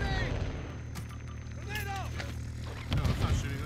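Gunfire in the video game DMZ fires on the players in a dense run of loud shots and booms. Excited voices talk over it throughout.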